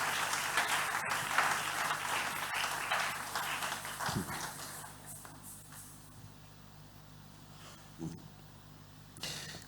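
A church congregation applauds the Lord during a French and Lingala sermon, a dense wash of many hands at moderate loudness that gradually thins and fades, with a few isolated claps near the end.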